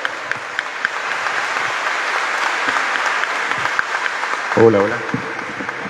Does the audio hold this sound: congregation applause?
yes